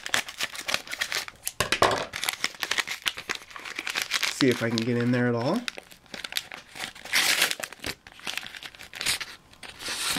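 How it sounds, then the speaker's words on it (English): A plastic Pokemon card pack is crinkled and cut open with scissors, close-up crackling and snipping in bursts, with a short tearing rasp partway through and a person talking over it. "I have my scissors handy, and I'll open it up right now."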